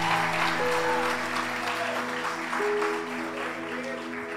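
A church congregation applauds during a sermon, a steady, dense wash of clapping under sustained organ or keyboard tones, fairly close and loud throughout.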